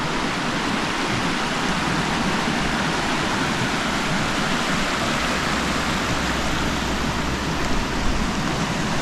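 Granite Creek in British Columbia rushing past a campsite, a steady, dense broadband wash of flowing water, close and continuous with no voices.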